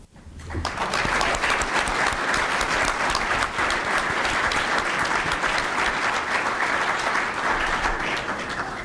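A large audience at a dental school honors convocation gives a sustained round of applause for award recipients, a dense, loud, even roar of many hands that holds steady with no speech over it.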